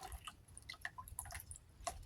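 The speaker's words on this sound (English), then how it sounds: "Let's just drain this water off." Water drains and drips from a container holding sweet potato slips, giving scattered close splashes and trickles in an irregular pattern, faint and without talk.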